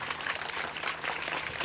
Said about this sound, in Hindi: ठंडी है ताली आपकी